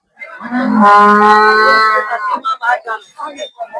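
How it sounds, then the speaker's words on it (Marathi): A loud, long moo from a nearby cow rings out at a cattle and buffalo market, followed by talking and chatter in a busy outdoor setting. "भरपूर अशा म्हशी आणि गाया या ठिकाणी आलेल्या आहेत"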